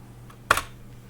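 A single sharp keystroke as Enter is pressed on a computer keyboard, one crisp click standing out clearly against a quiet room hum.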